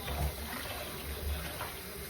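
Steady running water with faint splashing, like greens being rinsed under a tap, continuous and fairly close.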